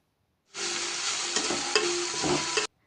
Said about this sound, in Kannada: ಹಾಗೆ ಸ್ವಲ್ಪ ಫ್ರೈ ಮಾಡ್ಕೋತಾ ಇರಿ ಇಲ್ಲಾಂದರೆ ಸೀದೋಗ್ಬಿಡುತ್ತೆ